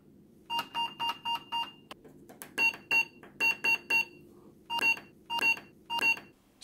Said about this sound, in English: So our system produces a beep that is just slightly lower pitched than the real Apple II.